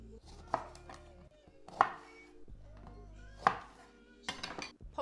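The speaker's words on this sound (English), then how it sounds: "I'm going to chop an onion just into quarters" A kitchen knife chops through an onion and a lemon on a board for a seafood boil: four sharp, separate cuts spaced about a second apart, close and crisp against a quiet, steady background.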